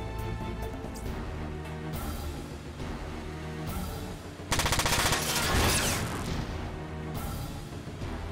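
Mech machine-gun fire from Front Mission 4, rapid bursts of shots over a looping game music bed, with a louder dense volley of fire midway through.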